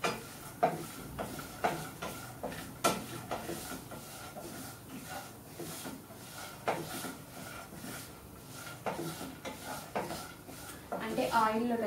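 Flattened rice (poha) crisps in hot oil in a pan, a soft sizzle with repeated close scrapes and metallic clinks of a spoon against the vessel, uneven in rhythm.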